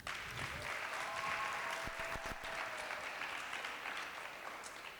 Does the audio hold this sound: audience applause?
yes